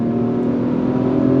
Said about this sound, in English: We're gonna do second gear, and then we're gonna go on throttle.